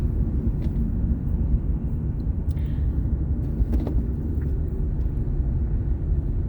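Steady low road rumble from inside a car driving through city streets in Dnipro, with a continuous engine and tyre drone and faint passing traffic, no talking.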